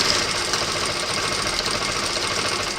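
An MS 9800-K electronic lockstitch sewing machine with automatic thread trimmer runs a steady, continuous stitching whir, close and even throughout with no pauses.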